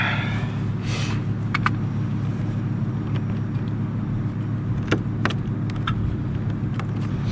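A Volvo 850 car idles with a steady low engine rumble throughout, with a few faint clicks and knocks from inside the cabin; no one talks.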